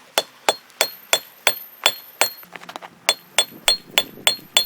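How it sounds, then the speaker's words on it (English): A hammer strikes hot steel on an anvil at a steady rhythm as one end is forged into a tomahawk spike. A dozen sharp ringing blows fall close and loud, with a brief cluster of lighter taps in the middle. "I've moved on to where I'm actually hammering out the other end so that way I can make that into a spike"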